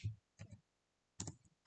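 Keys clack on a computer keyboard in a few quick clusters of two or three taps, close and quiet with silence between.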